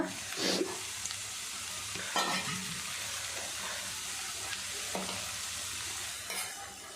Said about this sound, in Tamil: முட்டை ஊற்றி கிண்டியாச்சு